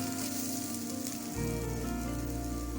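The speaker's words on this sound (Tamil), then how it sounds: "இந்த மாதிரி பொன்னிறமாக வர்ற வரைக்கும் நம்ம நல்லா இதை ஃப்ரை பண்ணணும்" Cashews, garlic and ginger fry in hot oil in a kadai, giving a steady close sizzle that turns louder and fuller partway through, with no talking.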